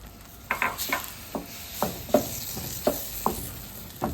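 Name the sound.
peas stirred into fish tagine sauce, cooking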